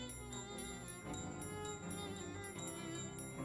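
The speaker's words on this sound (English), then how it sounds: "chiming sound wherever we walk, and it's going to actually fit the music of the area" Glockenspiel sandals in the video game Shadows Over Loathing ring a light, evenly spaced chime with each footstep, a soft rhythmic tinkling over the game's steady area music.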